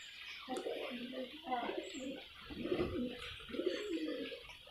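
Pigeons coo in low, rolling phrases that repeat steadily over about five seconds, close by, with faint chirps and a soft background hiss.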